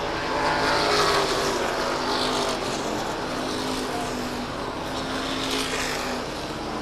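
NASCAR Modified race cars at Waterford Speedbowl, a short oval track, roar steadily at full throttle in side-by-side racing, a loud continuous engine drone with pack noise swelling and fading as they pass.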